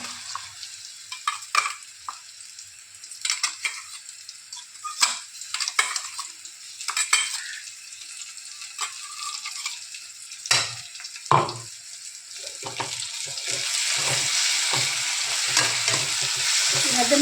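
Chopped onions and green chili paste frying in a pan, with a spoon scraping and stirring in repeated bursts over a soft sizzle that swells into a loud, steady hiss near the end.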